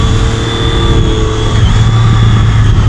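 Track-spec Daytona motorcycle engine revving on a race track, a loud, steady mid-pitched drone that holds strong throughout and swells slightly in the second half, with no talk.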